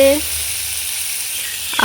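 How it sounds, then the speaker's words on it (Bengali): Hot oil sizzles steadily in a pan of frying aubergine, with a brief voice at the start and another at the end. "বেগুন ভাজা চলছে এখানে"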